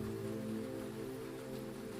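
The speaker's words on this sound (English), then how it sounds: "Rain drums on the canvas just above your head. A constant, soft roar." Rain drums on a canvas awning overhead at night, a constant soft roar with a steady low hum beneath it, even and unbroken.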